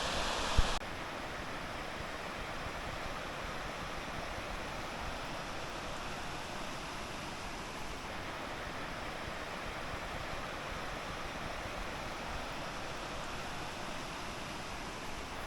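A waterfall in the Kazachka gorge roars steadily and evenly, a faint, distant, unbroken rush of water after a brief louder knock at the start.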